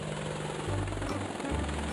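Steady droning rotor and engine noise of a helicopter, continuous and fairly loud, with a low throbbing hum that shifts pitch slightly.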